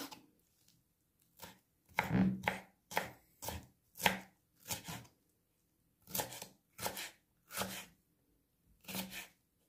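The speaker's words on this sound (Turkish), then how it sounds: "bu şekilde incecik doğru, jülyen olarak ince ince doğruyorum" A knife cuts red and green peppers into fine julienne strips on a cutting board, close, crisp chopping strokes coming in quick bursts with short pauses between them.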